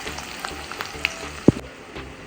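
Two large onions fry in a pan, giving a steady close sizzle with a few sharp pops and crackles scattered through it, no voices.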